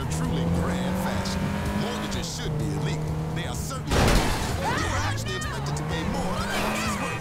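A car in GTA 5 driving hard with a steady engine drone that rises and falls through gear changes, with loud tire squeals and a sudden crashing burst midway, under continuous background game sound.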